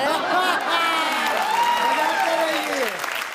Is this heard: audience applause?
yes